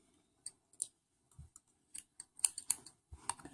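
Scissors snip cotton wick while building a Vaporesso Gemini RTA rebuildable atomizer, a series of quiet, sharp little cuts and clicks spread irregularly across the moment, close and crisp with no talking.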